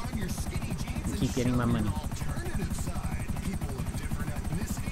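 A helicopter flying in GTA V, its steady rotor chop pulsing loud and continuous throughout while someone talks over it.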